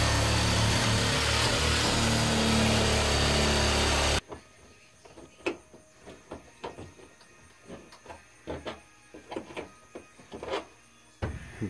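Edge trimming during the conversion of a 2018 Promaster 2500 van into an RV starts with a loud continuous tool run, then turns into a series of sharp irregular cutting and knocking sounds close by.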